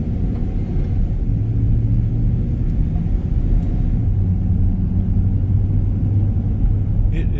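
A 2019 Express Van 3500 cruising on the road gives a steady, loud low rumble of engine and tire noise with droning tonal hum throughout, heard from inside the cabin.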